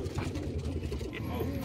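Racing pigeons coo low and soft inside a loft in Buldhana, a continuous throaty murmur with someone talking over it.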